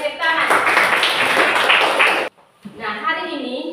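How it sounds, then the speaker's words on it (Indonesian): Pupils in a classroom break into a burst of applause, dense clapping for about two seconds that stops abruptly, followed by a teacher's voice talking. "Oke, luar biasa, tepuk tangan."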